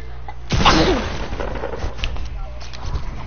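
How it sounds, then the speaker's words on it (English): A sneeze bursts out once, loud and close, among a group of young people in a casual hangout; a sharp, breathy blast, then lighter background sounds. "I sneezed and then I closed my eyes"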